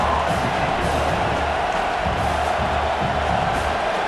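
A dense, loud stadium crowd roar fills a college football video game matchup of Auburn against Tennessee, a steady wash of cheering and shouting with no breaks.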